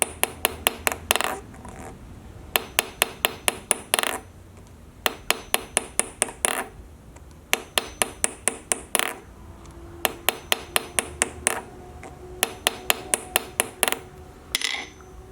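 A coin is hammered into a ring with basic tools, making bursts of sharp, ringing metallic taps in quick runs of five to eight strikes. Short pauses separate the runs while the coin is flipped, and the blows sound close and crisp.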